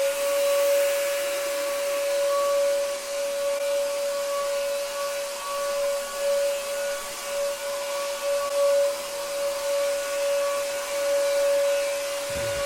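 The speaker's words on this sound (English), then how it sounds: "what I have here is a ULV fogger. It's an ultra low volume fogger." A ULV ultra low volume fogger set to a low output for dry fog runs steadily indoors, a constant hissing motor drone with a sustained whining tone, close and even, with no talking.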